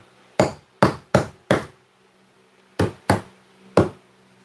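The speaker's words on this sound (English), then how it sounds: "It's my first time using the hammer." A hammer strikes a wall in a series of sharp, close knocks: a run of four evenly spaced blows, a short pause, then three more, each loud and dry with a quick decay over a quiet room.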